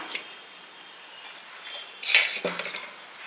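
Ripe tomatoes dropped into a metal pressure cooker in a home kitchen, giving a few light clinks and a soft thud, quiet and close with no talk.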